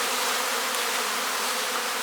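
Honey bees flying at a hive entrance, a steady close buzzing drone of many wings filling the air continuously with no pauses.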